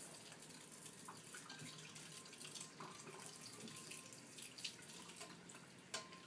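Water runs steadily from a tap while hair is being wet, a continuous soft splashing hiss at a distance with small drips and splatters, no talk.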